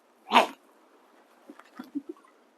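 Single sharp dog bark up close, followed by a few faint, soft yips in an otherwise quiet space.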